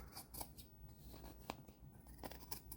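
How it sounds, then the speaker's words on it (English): Scissors trim the edge of a paper envelope decorated with scraps and fabric, a few short crisp snips and rustles close by, quiet, with no talking over them. "So we're going to trim it. Trim it a little."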